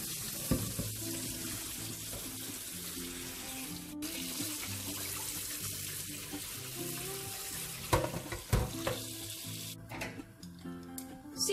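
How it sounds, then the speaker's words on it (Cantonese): Tap water runs in a kitchen sink while chunks of lamb belly are rinsed clean, a steady faint splashing stream with occasional clunks and handling noises near the end, no talk. "跟住就將啲羊腩洗返乾淨。"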